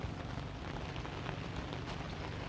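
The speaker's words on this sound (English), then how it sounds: "it's been raining all day" Steady rain falls at night around a camp in Quartzsite, Arizona, after a full day of rain, a soft continuous patter with a low rumbling undertone, faint and even throughout, with no voices.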